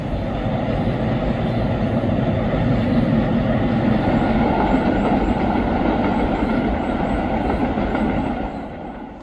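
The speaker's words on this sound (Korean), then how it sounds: "다시 오우나역에서 쇼난 모노레일을 이용해 다음 목적지로 이동했습니다" A Shonan Monorail train runs steadily and loudly close by, a continuous rumbling roll that holds for most of the stretch before easing off near the end.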